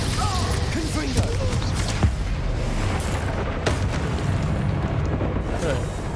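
Confringo spell explosions in Hogwarts Legacy: loud, continuous booming blasts and crashes, with game voices mixed in underneath.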